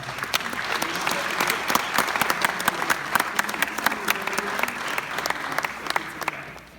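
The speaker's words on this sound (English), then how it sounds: "people, I'm sure, are clapping" A town hall audience claps vigorously, with sharp individual hand claps standing out against a dense wash of applause. Faint crowd voices sit underneath, and the applause thins out at the very end.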